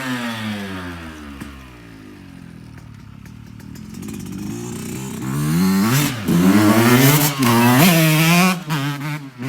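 A Yamaha YZ125 two-stroke dirt bike engine, 2024 model with a jetting problem, idles with a buzzy rattling drone, then blips into rising and falling revs in the second half, close and loud with no talk.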